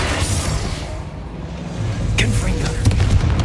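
A Bombarda blasting spell goes off in Hogwarts Legacy, with rumbling booms and sharp bursts of in-game explosion noise, loud and near, amid game sound.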